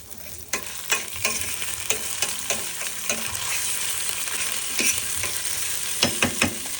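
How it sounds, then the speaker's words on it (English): Ginger browning and sizzling in a hot pan for cow fun noodles, with a spoon scraping and stirring in irregular clacks over a steady close frying hiss. "And I'm gonna cook the ginger. Brown it."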